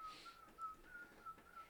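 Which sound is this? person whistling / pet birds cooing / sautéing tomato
person whistling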